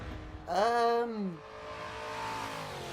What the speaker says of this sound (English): the 1970 Dodge Coronet Super B. 425 brake horsepower, 490 foot-pounds of torque